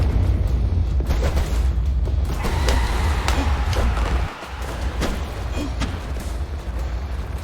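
Bombs blowing up in the video game Undermine, with a series of booming detonations and thuds over a steady rumbling backdrop, loud and close, then a sudden drop to quieter noise with a few more impacts.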